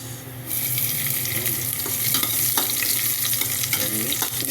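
Onions sautéing with ginger in a pan for chicken tinola, a loud close sizzle that swells when the onions drop in, with busy stirring and scraping and no talk.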